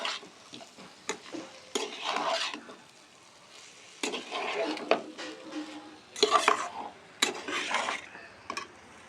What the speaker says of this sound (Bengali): দিয়ে মশলার সাথে উপকরণগুলোকে আমরা ভালো করে মিশিয়ে নেব